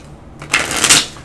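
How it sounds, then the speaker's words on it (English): Playing cards being shuffled at the table during a Dark Souls The Card Game session, a short close burst of riffling swells over about half a second and fades, with no talk. "I hope that shuffling isn't too loud for you."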